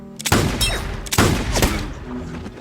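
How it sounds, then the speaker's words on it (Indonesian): Two loud, sharp gunshots in an action film ring out about a second apart, each followed by a booming echo that decays before things quiet down. "Hanya 2 kali tembakan, Johnny mampu membuat si preman tidak berdaya."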